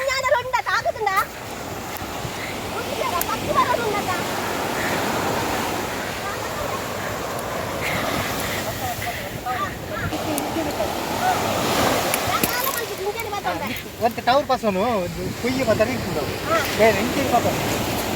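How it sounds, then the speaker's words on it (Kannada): Rough sea waves surge and wash in a continuous roaring churn with splashy bursts around a crab-netting spot on the coast, and a person talks over the noise. "ಈಗ ಒಂದು ಸ್ವಲ್ಪ ಒಮ್ಮೆಲೆ ರಫ್ ಆಯ್ತು ಕಡಲದ್ದು"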